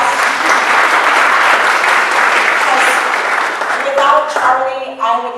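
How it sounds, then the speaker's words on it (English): An audience applauds at a talk, giving loud, sustained, close clapping that continues throughout, with a voice starting to speak over it toward the end. "round of applause"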